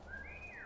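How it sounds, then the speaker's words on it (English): A single short rising whistle used to lure enemies in the co-op stealth game War Mongrels, sounding clear and faint with no talking over it. "I tried to pull them with a whistle on a trap."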